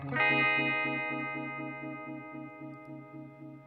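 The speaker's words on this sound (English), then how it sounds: "phaser tone here" Sustained phaser-effected guitar tone through a Walrus Audio Slotva pedal, a struck chord ringing out with a steady pulsing sweep across its harmonics, loud at the attack and slowly decaying over a few seconds, no voices.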